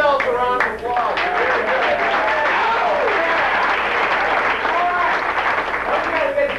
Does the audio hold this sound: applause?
yes